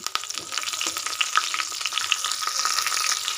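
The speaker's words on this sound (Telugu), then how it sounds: "అలాగే జీలకర్ర కూడా ఇప్పుడు మంచిగా వేగిన తర్వాత తాలింపు మూడు ఎండుమిర్చి అలాగే కరివేపాకు" Cumin, urad dal, dried red chilies and curry leaves sizzle in hot oil for a tempering, a bright continuous crackle with a few stirring scrapes, no talking.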